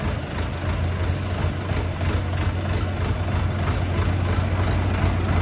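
An Orion GT 504 engine idles steadily, a continuous low rumble with a strong low hum, loud and close throughout with no talking.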